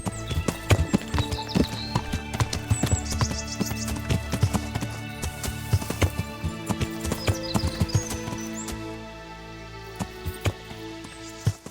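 Horse hooves clip-clop steadily in Kingdom Come Deliverance as the horse is ridden across hilly ground toward a creek, a dense rhythmic patter of close hoofbeats with an occasional whinny and light background noise.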